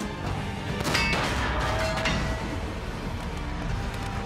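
A Sherman tank's main gun fires in a World War II battle against a Tiger tank, heard as a heavy, clanging blast with metallic ringing and crashing debris, loud and reverberant amid chaotic battle noise.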